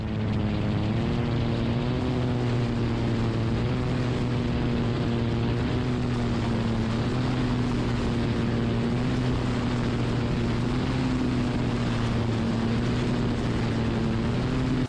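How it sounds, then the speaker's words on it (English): A helicopter doing aerobatic rolls drones with a steady, loud engine and rotor hum of strong low tones that sits unchanged for the whole stretch, with no voices. "Take a look at this amazing footage of this helicopter doing rolls."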